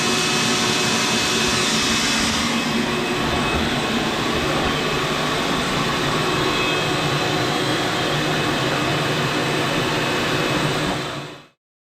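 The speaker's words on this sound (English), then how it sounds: "we're gonna get the vacuum out and we're gonna vacuum that out and clean it in toward the bottom of the water heater" A vacuum cleaner sucks soot and dirt out of the bottom of a water heater, a loud steady roaring whine close by that runs unbroken for about eleven seconds before cutting off abruptly.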